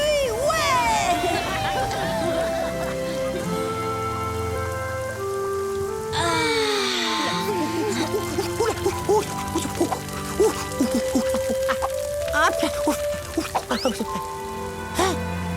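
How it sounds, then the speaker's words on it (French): Cartoon rain patters steadily on surfaces beneath a musical score, with the dripping spread softly across the scene and a brief louder burst partway through. "La pluie, ouais."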